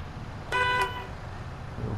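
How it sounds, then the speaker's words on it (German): A simulated bus horn in Bus Simulator gives one short, bright honk over a low idling engine rumble, then cuts off, leaving the engine hum. "Hupe."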